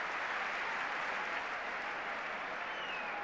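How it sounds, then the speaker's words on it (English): Football crowd applauding around the ground at a Manchester United versus Ipswich Town match, a steady broad wash of clapping that holds evenly for a few seconds without pause. "Applause rings round the ground."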